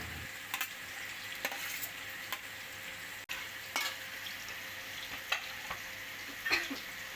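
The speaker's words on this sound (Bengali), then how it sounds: "এবার একে একে আগে থেকে ভেজে রাখা ফুলকপি আর আলুটা আমি এর মধ্যে দিয়ে দেবো" Pre-fried cauliflower and potatoes drop into a hot biryani pot one after another, setting off a steady sizzle with sharp spoon-stirring scrapes and clinks, close and without speech.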